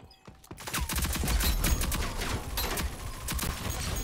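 Sustained video game gunfire rattles in a dense, loud, continuous fusillade of rapid shots lasting for several seconds, with no speech over it.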